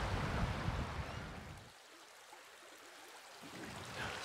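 River water rushing through a braided river channel in New Zealand, a broad steady wash of flow that dips briefly quieter before swelling again, close and continuous.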